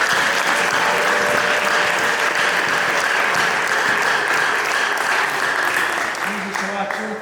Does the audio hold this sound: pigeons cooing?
no